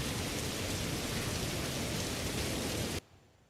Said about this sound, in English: Little rainy out.